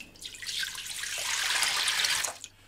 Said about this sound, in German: jetzt braucht ihr einen großen Topf und 1 Liter Wasser